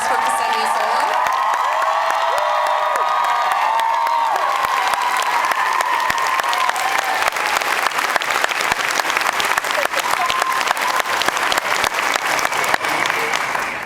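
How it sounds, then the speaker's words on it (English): A large convention audience at a fan expo Q&A panel breaks into sustained, loud applause with cheers and whoops, hands clattering densely throughout as the crowd noise builds and stays high. "Big round of applause for Ksenia Solon."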